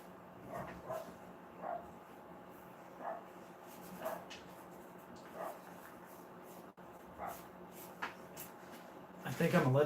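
Dogs bark in short, separate bursts across the room, fairly faint and spaced every second or two, over a low hum, with a louder scuffle at the end.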